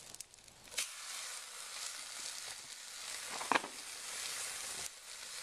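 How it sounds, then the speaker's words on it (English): Ham frying and bread toasting in hot pans on an off-grid StoveTec stove give a steady close sizzle with soft crackles and a few louder pops and scrapes, and no one speaks. "we'll just start toasting this bread and get this ham cooking"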